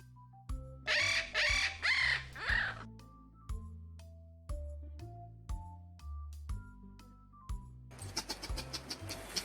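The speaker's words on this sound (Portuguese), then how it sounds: "Esse é o som do periquito, mostrando a sua canção." A parakeet chirps in a quick burst of harsh, rasping calls near the start, followed by plinking children's song accompaniment and a brief noisy rattle at the end.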